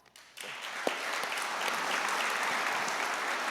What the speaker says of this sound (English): Big round of applause for Matt, Andy, and Natalie.